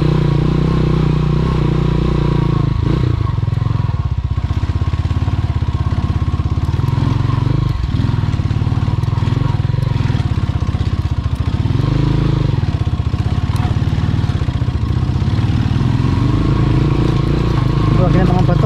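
A motorcycle rides a sandy, rocky mountain trail in Sapang Uwak, Porac, Pampanga, its engine droning steadily and loud throughout with rattling clatter over loose sand and stones, while a person talks over it.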